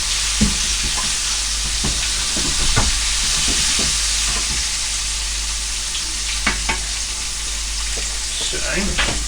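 Food fries in a hot pan, crackling with a loud, dense sizzle punctuated by pops and occasional scraping stirs, all close up and continuous.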